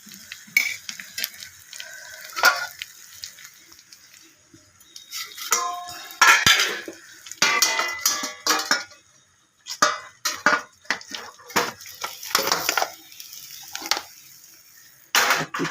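A fish mughlai paratha is flipped in a frying pan: a spatula clinks and scrapes against the metal in uneven bursts, with a faint sizzle of frying between the clatters.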